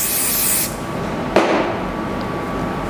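Oasis hairspray hisses onto hair in a loud, steady burst lasting over half a second. A sharp click follows, then a quieter room hush.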